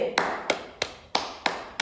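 Six sharp hand claps in a steady, slightly uneven rhythm, close and moderately loud, with no voices between them.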